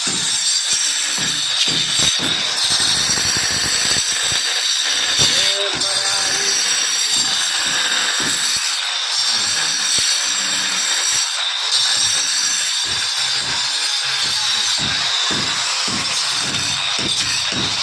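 A wall cutting machine chases grooves into a wall for electrical pipes, giving a loud, continuous harsh grinding roar that runs steadily with small surges throughout.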